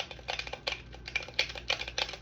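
Quick clicks and taps on GameCube controller buttons, springy and crisp, in irregular bursts of several presses, close and quiet with no talking.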